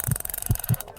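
A heartbeat sound effect throbs alone, with three deep, close thumps in a quick lub-dub rhythm over a faint hum.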